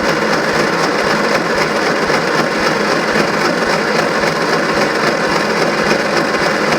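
An engine cranks continuously at full throttle during a compression test, a loud, even whirring drone with a fast steady pulse and no pauses across nearly seven seconds.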